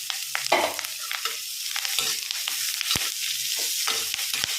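Chopped beetroot fries and sizzles in a pan while a spoon stirs it, sharp scraping strokes recurring irregularly over a constant hiss of frying, close by with no talking.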